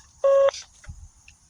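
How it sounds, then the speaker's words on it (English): A single steady electronic beep sounds after an answering machine greeting, loud and lasting about a quarter second, followed by faint line noise and a soft thump. "Please leave a message after the tone."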